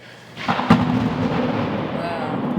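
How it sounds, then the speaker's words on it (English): A thunderclap cracks sharply over steady rainfall, then rolls on as a broad rumble while the rain keeps hissing underneath; no one speaks. "when it rains and it thunder and lightning"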